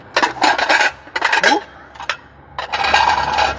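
Glass dishes and plates, including Pyrex bakeware, clink and clatter as they are handled and sorted from a dumpster, with bursts of clinking separated by short pauses and a few spoken words over the handling.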